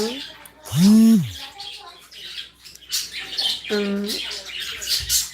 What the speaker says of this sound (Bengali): সেই পাখির আওয়াজ তোমরা শুনতে পাবে সারাক্ষণ বাড়ির ভেতরে